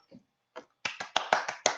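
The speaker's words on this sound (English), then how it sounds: "That's a hand clap for you because we have done it" Several sharp hand claps in quick succession, loud and close, following a couple of softer taps, with no talking.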